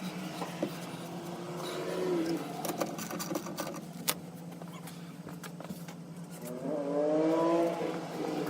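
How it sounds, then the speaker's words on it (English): A power drill re-drills the exhaust mounting hole on an MG Midget 1275 racecar for a Maniflow exhaust bobbin, a steady close motor whine with small knocks that swells louder toward the end. "I'm going to have to re-drill that"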